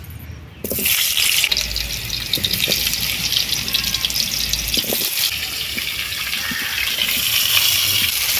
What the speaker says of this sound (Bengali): তেলের মধ্যে এবারে কেটে রাখা আলুগুলো দিয়ে দিচ্ছি